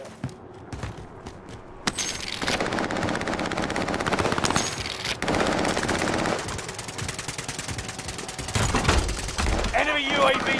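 Call of Duty: Modern Warfare gunfire, a few sharp early shots, then long rapid automatic bursts sustained throughout, loud and close, with voices talking over the shooting.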